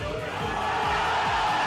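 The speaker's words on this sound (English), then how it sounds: "The crowd went fucking wild." A large crowd at EVO roars in a dense, continuous wall of cheering and shouting after Daigo's parry, loud and distant-sounding as if from a recording.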